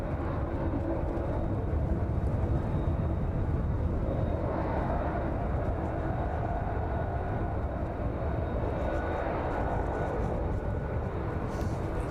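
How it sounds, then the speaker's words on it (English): A jet aircraft rumbles steadily at East Midlands Airport near the end of runway 27, a loud continuous engine roar with no break and no talk. "It's not very often we get to see these aircraft up this end of the airfield."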